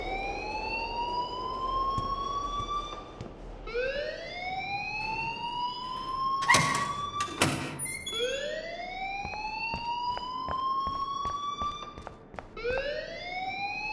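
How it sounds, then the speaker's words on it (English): Rising and falling electronic alarm wailing in a repeating sweep in the game Life is Strange, steady and moderately loud, with a couple of brief sharp clatters partway through. "please turn off that alarm since that's your job."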